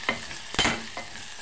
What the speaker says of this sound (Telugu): యాడ్ చేసి మిక్స్ చేసుకుంటున్నాం.